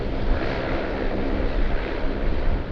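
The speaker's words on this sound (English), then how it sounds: "Looks like we might have a Boeing 787." A Boeing 787 airliner rumbles steadily at Sydney Airport during golden hour, a broad, continuous roar of jet engines holding at a fairly even loudness throughout, with no voices over it.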